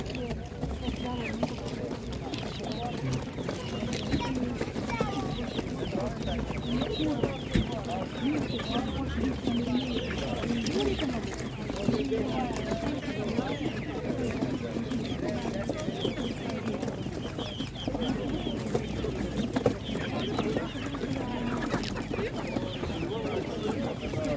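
Many laying hens cluck and chatter continuously at a busy outdoor animal market, with people talking among them throughout.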